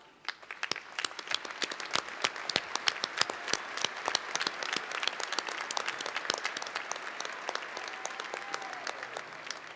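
Sustained applause from a large commencement audience honouring the faculty, dense steady clapping that builds quickly and continues at full strength throughout, with no talk over it.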